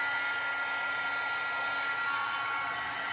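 A heat embossing tool blows hot air at card stock, a steady, loud, even rushing whir that runs without a break for the whole stretch.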